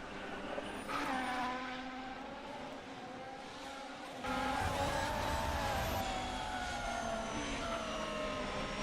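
A Ferrari race car in a racing video game takes the final corner of a Japanese Grand Prix lap, its engine a steady, close whine that shifts pitch and grows louder partway through.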